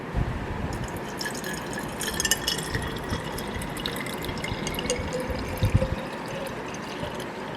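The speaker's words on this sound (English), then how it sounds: "Now time to add water." Water poured into an old coffee bottle holding white, blue, green and golden stones, a soft continuous trickle with small drips and gurgles, fairly quiet and close, with no talking.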